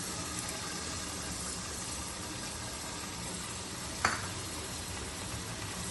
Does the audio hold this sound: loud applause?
no